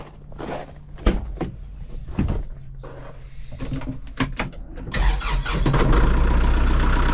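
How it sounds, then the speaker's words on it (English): A tractor engine cranks in several sputtering bursts, catches, and settles into a loud, steady rumbling idle nearby. "I'm gonna crank this tractor up, let it warm up."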